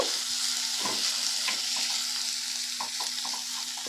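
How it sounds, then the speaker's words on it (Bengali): Semolina with salt, cumin and coriander powder stirred in a hot pan for jhal suji: a steady sizzle underneath, with scattered scraping taps of the spoon against the pan, close and continuous. "লবণ এখানে হাফ চামচ দিয়েছি জিরে গুঁড়ো আর হাফ চামচ ধনে গুঁড়ো আবার একটু ভালো করে নেড়ে নেব"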